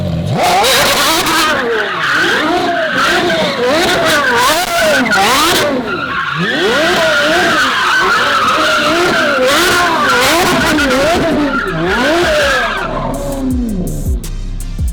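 A supercar skids across polished concrete onto asphalt, its tires squealing in loud, wavering, repeated howls under surging engine revs, close and continuous.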